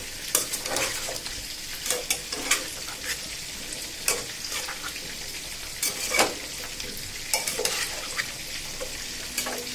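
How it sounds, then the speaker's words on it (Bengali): Papaya pieces tossed into spiced masala frying in a pan for koi fish bhuna, with a steady sizzle and repeated sharp scrapes and clinks of a spatula stirring against the pan. "এবার আমি পেঁপেগুলো দিয়ে দিচ্ছি"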